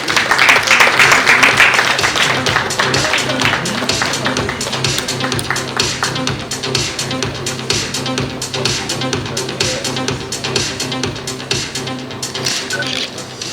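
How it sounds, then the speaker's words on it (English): Audience applause at an awards ceremony fills the hall, a steady wash of many hands clapping that starts loud and continues evenly throughout, with some background music or voices underneath. "Give them a big round of applause"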